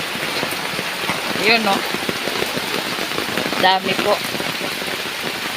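Rain pours onto potted garden plants at a home, a steady close patter on leaves and surfaces throughout, while people talk briefly over it.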